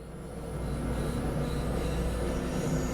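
A Class 193 Vectron locomotive in Train Sim World 5 starts to move, traction motors whining up into a broad rumbling hum that swells and then holds steady, with no talk.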